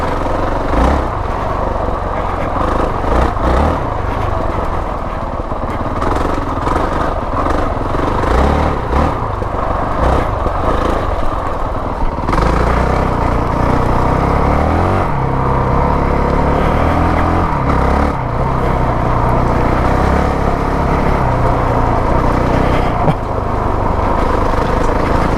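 A 2019 Honda CRF450L dual-sport motorcycle engine thrumming continuously while riding off-road uphill over roots and mud, with rising and falling revs and steady close-up wind and mechanical noise throughout.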